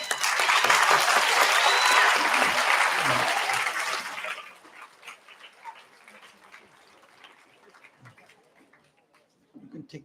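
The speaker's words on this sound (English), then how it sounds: "And a round of big applause." Loud, dense applause from an audience at a human values induction program, sustained for about four seconds and then fading into scattered clapping and quiet murmur.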